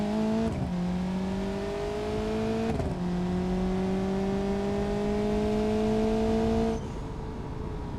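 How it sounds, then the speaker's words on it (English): A BeamNG.drive car engine drones and climbs in pitch, with quick pops at each dual-clutch gear shift, three shifts spread across several seconds. "it makes like cool popping noises when the when the dual clutch shifts"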